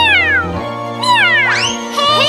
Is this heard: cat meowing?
yes